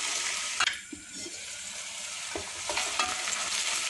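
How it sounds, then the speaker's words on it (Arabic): Chopped onion fries in a pan for a traditional Tunisian mallow dish, giving a steady broadband sizzle with a few brief clinks and scrapes as it is stirred, near and fairly loud throughout, with no talking. "نحطوا البصل نخليوه يتقلى شويه ساعه"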